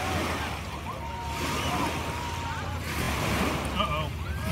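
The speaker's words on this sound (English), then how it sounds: "Oh, the waves." Surf splashing against a sand wall built on a lake beach at Weirs Beach, a steady broadband wash of water with wind buffeting the microphone, close and continuous, with faint voices in the background.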